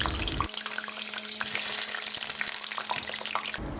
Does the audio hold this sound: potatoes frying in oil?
yes